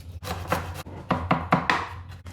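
A knife chops garlic on a cutting board in a quick series of crisp, close taps, about seven strokes in an uneven rhythm, with no talk.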